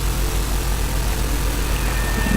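A tractor engine idles and runs steadily up close, a continuous low rumble with no talk over it, on a woodcutting job.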